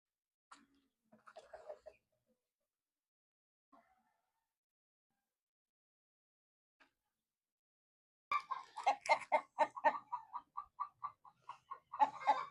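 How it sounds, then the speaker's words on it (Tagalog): Rooster and chickens in a backyard farm: a few faint scattered clucks early, then a loud run of rapid close clucking and calls near the end. "Itong rooster."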